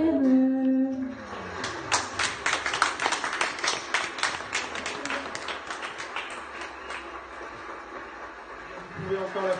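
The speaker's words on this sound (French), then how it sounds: "Vous pouvez encore l'applaudir" Audience at a nursing school event in Morlaix claps after a sung performance, a brisk burst of applause that rises, then thins out, with voices speaking at the start and end.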